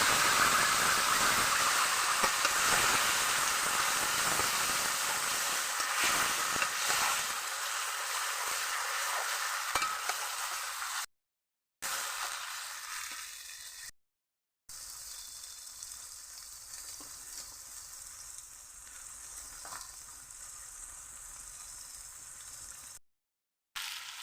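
Mutton sizzling and hissing steadily in a pan with bay leaf and whole cumin tempering, a continuous close frying crackle with brief gaps.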